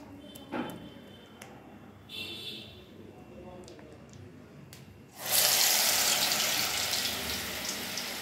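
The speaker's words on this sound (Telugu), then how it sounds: "వాటర్లో చెయ్యి ఇలా డిప్ చేసి కొంచెం ఇలా తీసుకోవాలి" Water splashes and runs as a hand dips into a bowl while shaping rice flour dough, a faint pour early on giving way to a loud continuous gush of water in the second half.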